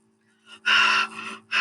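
A voice imitates fast, thick panting with a few sharp, loud gasping breaths in quick succession, close to the microphone.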